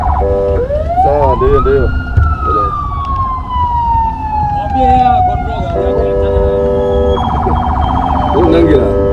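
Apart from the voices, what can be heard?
siren sounding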